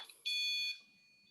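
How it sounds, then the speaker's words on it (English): A REM pod gives a single loud, high electronic beep for about half a second, then fades into a faint lingering tone. "So this is a REM pod, and Okay. she makes a really loud beep"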